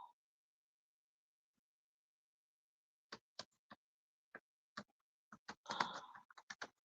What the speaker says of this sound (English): Hear me pecking on my keyboard.